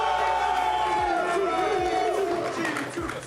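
Crowd at the 2024 Rocket League World Championship cheering and whooping for G2, a steady roar of voices with a presenter talking over it.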